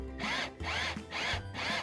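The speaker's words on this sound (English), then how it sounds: "if you're worried about stripping heads, pulsate the drill" Power drill driving a screw while relocating a Ring doorbell, run in short pulses: three or four whirring bursts of about a third of a second each, separated by brief gaps, close and fairly loud, with no talking.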